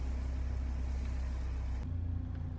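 A 1987 Porsche 944 engine idles at about 1,000 RPM with a smooth, low, steady hum and slight pulsing, up close and without voices.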